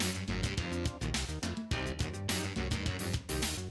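Upbeat, busy electronic Wario music from a video game with a bouncy bass line and punchy rhythmic beats plays continuously, fairly quiet, with no talking over it.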